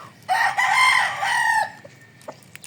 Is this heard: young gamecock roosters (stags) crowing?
yes